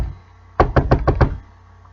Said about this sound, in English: A hand rapped at the back door.